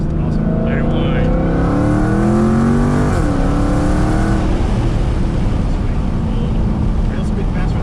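A loud Dodge Hellcat engine roars with a rising, high-pitched supercharger whine that climbs then drops, over constant road and engine noise.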